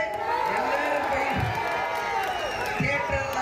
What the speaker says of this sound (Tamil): அவர் கூறியதும் தொண்டர்கள் ஆரவாரம் செய்தனர்